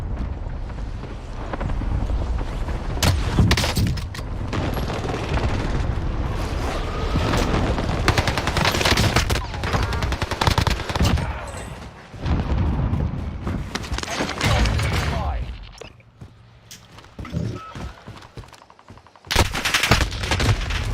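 Sustained gunfire in Call of Duty Warzone, dense automatic bursts and booms running almost continuously, loud and close, with a brief quieter lull before firing resumes.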